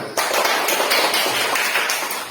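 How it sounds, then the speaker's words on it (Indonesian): Applause from groups of students in a classroom, a dense and steady patter of many hands clapping together for a couple of seconds, fairly loud and close. "Bagus, tepuk tangan untuk kita semua."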